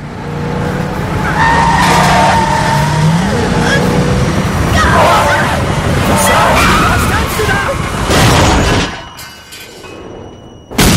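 A car skids with screeching tires and heavy engine noise in a traffic accident, loud and sustained for several seconds before cutting out abruptly, with voices and background noise mixed in.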